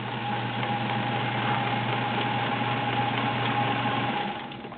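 Sears Kenmore Model 1802 sewing machine sewing a zigzag stitch, a steady close mechanical hum and rapid needle rattle running continuously, then easing off at the end.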